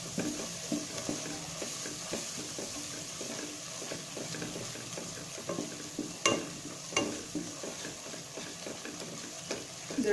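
Onion, ginger garlic paste and masala powder fry steadily at low volume for a chicken curry, with a soft continuous sizzle broken by repeated scraping stirs of a spoon in the pan.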